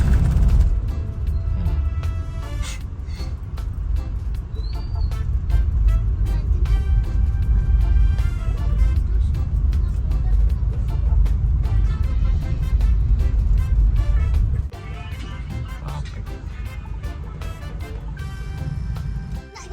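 Afternoon road traffic near MCX, a loud, continuous roar of vehicles with frequent clicks and rattles that drops a little near the end.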